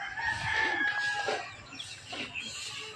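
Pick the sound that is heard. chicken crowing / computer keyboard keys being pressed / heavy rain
chicken crowing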